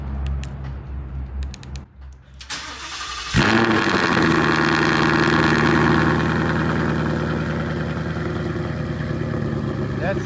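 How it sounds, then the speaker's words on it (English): A 2018 Mustang GT V8 fitted with CORSA headers, a catless double helix X-pipe and active exhaust cranks to life after a quiet few seconds, then settles into a loud, steady, rumbling idle close by. "this is CORSA headers 178 catless double helix X pipe with active exhaust"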